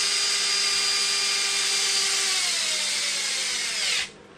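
A power driver whirs loudly and steadily as it tightens screws into the plastic of an Arrma Limitless 8S RC car. The pitch sags slightly before the tool stops abruptly.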